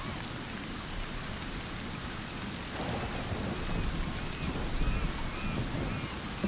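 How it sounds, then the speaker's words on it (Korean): Dense, steady rainfall hissing throughout in the video game Sons of the Forest, growing slightly heavier midway, with no talking. "와 빗소리 개오진다"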